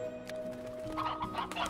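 Chickens cluck in bursts around a coop inside a cave in the Slime Rancher video game, set over a steady tonal game ambience, with no talking.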